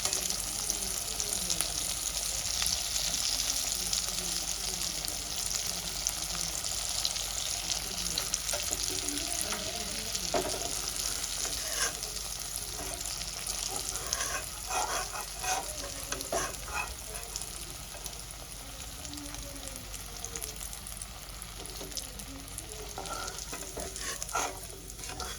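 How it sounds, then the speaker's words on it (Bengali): Steady frying sizzle from food browning in hot oil in a pan, continuous and fairly loud throughout, with occasional stirring clatter and crackle bursts around the middle. "সবগুলোই আমি এইরকম লাল লাল করে ভেজে তুলে নেব।"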